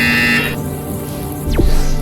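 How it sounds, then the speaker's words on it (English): An electronic buzzer in the VR game Portal Stories VR sounds as a steady, loud tonal drone that cuts off early, followed by a descending electronic swoop. "When you hear the buzzer, press the red button on your Aperture Science Instant Teleportation device"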